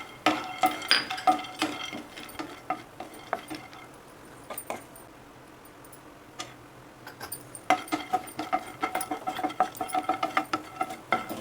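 Cashews roasting in a pan for pongal, a spoon tapping and scraping against the metal in quick clicking bursts, pausing briefly midway before resuming with rapid stirring taps.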